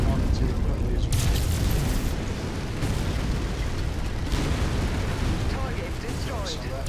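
A target blows up in the Mechwarrior 5 video game with heavy rumbling blasts and crackling bursts layered over a dense low roar, loud and close with several sharp peaks, while a voice talks over it.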